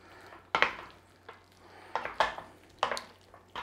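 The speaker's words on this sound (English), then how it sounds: "let's just stir those potatoes in there" Hot potatoes for German potato salad are stirred in a pot with the flame off, a utensil knocking and scraping against the pot in four or five close, clattering bursts.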